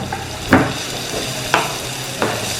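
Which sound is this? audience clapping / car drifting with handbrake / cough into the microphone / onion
onion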